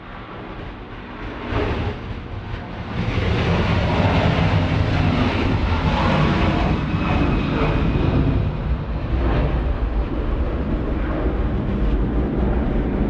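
A Hawaiian Airlines jet landing at Sydney Airport, a loud sustained engine roar swelling after a few seconds and holding steady throughout, broad and rumbling with no talking.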